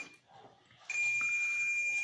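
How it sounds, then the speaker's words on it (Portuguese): A multimeter in continuity mode gives a steady, high continuous beep while probing a shorted internal diode on a Latina water purifier filter board. The beep starts partway through, after a quiet stretch, and holds to the end. "Ó, ele bipou, então o diodo interno está em curto"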